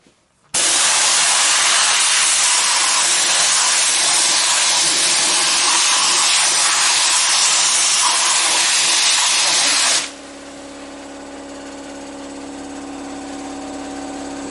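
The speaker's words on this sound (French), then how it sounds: "je vais sabler une pièce moulée en fonte qui a bien vécu, qui est bien rouillée" Coarse 0.514 mm grit blasts a rusty, well-worn cast iron part with a loud, steady roar of rushing air that runs for about nine seconds. It then cuts off abruptly, leaving a lower, quieter hum.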